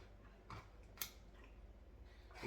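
Scissors snip loose ends off a craft piece, a few quiet, close cuts with one sharp clear snip in the middle against a soft background hush.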